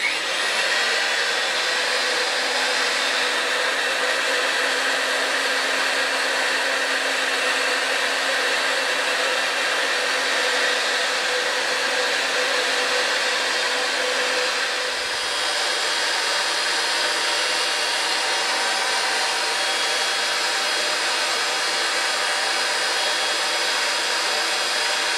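A RIDGID 141/161 pipe threader, driven by the driveshaft method, runs as a steady, loud motorized whir and grind that holds constant with no breaks, no voices over it.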